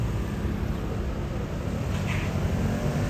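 A Ferrari four-seater drives past on the streets of Monaco, a steady broadband road and engine rumble rising slightly and then holding, with no talk over it.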